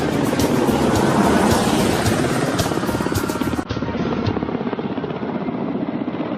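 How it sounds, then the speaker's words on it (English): Ka-25 anti-submarine helicopter lifting off from the deck of an aircraft-carrying cruiser: a loud, steady rotor thrum with dense low pulsing and broadband roar that persists throughout, close and unbroken. "Ka-25 submarine Hunter starts off from the deck of the aircraft-carrying cruiser to perform a demo flight."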